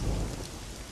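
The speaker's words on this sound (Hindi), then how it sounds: "अच्छा हुआ आप लोग जल्दी घर में आ गए, अगर बारिश में भीग जाते तो हालत ही खस्ता हो जाती।" Rain pours outside in a steady, dense wash, loud and close, with a deep low rumble underneath like distant thunder during a storm.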